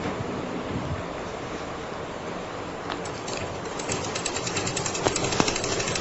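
A sewing machine runs a double line of stitching along a salwar seam, a close, fairly quiet whirring rattle that grows into a quick series of needle clatters toward the end.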